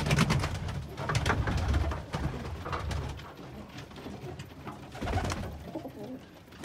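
Pigeons coo inside a loft that houses young chicks, with soft overlapping throaty calls, rustling and shuffling, close and continuous at a low, even level.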